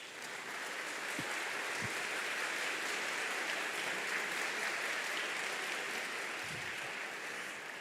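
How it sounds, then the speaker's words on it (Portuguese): A congregation applauds after a Bible reading at a Catholic preaching, a faint, steady wash of clapping that sounds almost like rain, heard from a distance. "Beija a sua Bíblia e vamos aplaudir a palavra de Deus."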